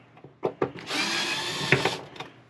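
A handheld power tool whirs loudly in a burst of about a second while backing screws out of a 1979 Williams Gorgar pinball board, with short clicks and trigger taps before and after.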